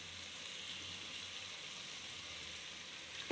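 Masala spices frying in a pan, sizzling as they are stirred down for a dish of fish head cooked with bottle gourd; a steady, moderately quiet hiss runs throughout with no speech.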